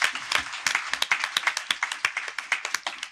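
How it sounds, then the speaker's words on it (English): A small seminar audience gives a round of applause after a talk on extractives and economic diversification in Africa, a few close, distinct hand claps in a quick, uneven rhythm. "Please, can we give him a round of applause"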